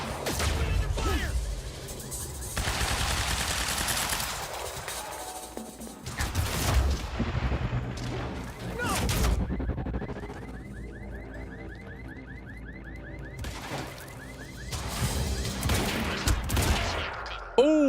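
Gunfire and explosions in Quantum Break's grand finale battle, loud dense bursts and booms recurring throughout with a mechanical warbling tone in quieter stretches, under shouted combat voices.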